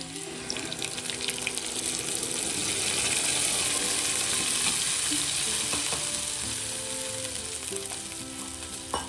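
A blended paste of curd, potato and peanuts hits a hot pan for fasting kadhi, producing a loud, dense, continuous sizzle and bubbling hiss that swells in the middle, close up with no voices.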